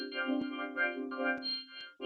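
A spoken voice processed through a spectral DSP effect, resynthesized as stacked steady sine tones so the phrasing comes out as buzzy, pitched chordal blocks in several short bursts.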